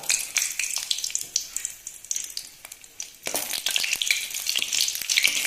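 Dried red chillies frying in sesame oil over low flame, a lively crackling sizzle with scattered pops and stirring scrapes that swells louder in the second half, no talking.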